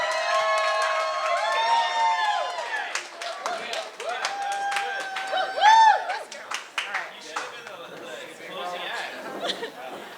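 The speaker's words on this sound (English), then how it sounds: "Round of applause, everyone, for Shiva." Wedding guests clap and cheer for a friend of the bride about to give a speech, steady applause mixed with chatter and raised voices over about ten seconds, with sung or sustained vocal tones running through it.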